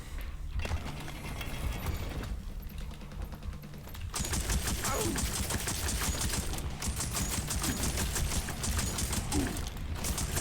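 Dense, continuous gunfire and explosions from the Blood & Teef video game, with rapid bursts and booms that stay loud throughout and intensify after a brief quieter stretch.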